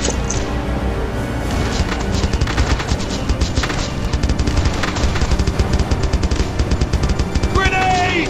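Rapid machine-gun bursts in the WWII shooter Brothers in Arms 2 Global Front, Normandy setting, hammering close and loud for several seconds with dense repeated reports and occasional heavier booms.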